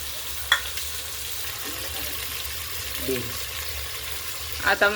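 Cauliflower florets stir-fried in a pan with tomato and garlic paste for a vegetable soya pea pulao give a soft, continuous sizzle with a few sharp spoon clinks against the pan.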